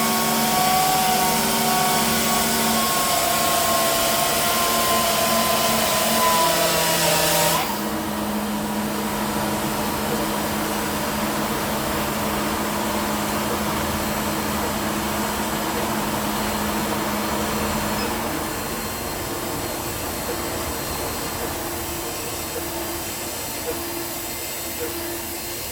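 A Shopsmith planer with a helical cutterhead runs at around 2,000 RPM, feeding oak: a loud, steady whine with a hissing roar that shifts in tone partway through as cutting starts and eases.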